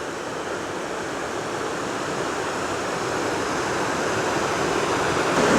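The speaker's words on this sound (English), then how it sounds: "A little bit of a waterfall here." A small waterfall on a river along a scenic mountain byway in New Hampshire, a steady broadband rush of falling water that holds even and continuous throughout, swelling slightly louder toward the end with no voices.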